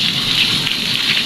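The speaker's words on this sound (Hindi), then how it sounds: "और बारिश बहुत ज़्यादा तेज़ आ रही है" Heavy rain pours down hard, a loud, dense and continuous roar of drops striking surfaces close by, unbroken and without speech.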